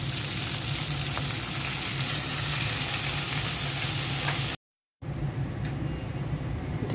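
Red amaranth leaves fry with onion, garlic and green chili in a pan, a loud, dense, constant sizzle that drops out briefly and then returns quieter.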